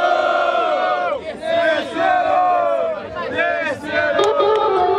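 A large crowd at a street rap battle, the Batalha do Tanque in São Gonçalo, Brazil, roars and shouts loudly and continuously, close by, with a brief dip before the cheering swells again.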